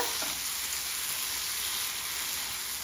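Chicken sizzling in ghee for a cashew chicken fry, a continuous even hiss of frying with a faint stir near the start, close and steady throughout.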